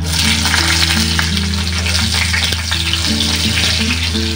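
Nigella seeds and four or five slit green chillies frying in oil, a loud, dense sizzle that holds steady throughout with faint crackles, close to the pan and with no voices.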